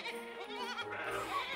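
Young children imitating sheep, voices bleating "baa" together in a short, wavering chorus, fairly faint and close.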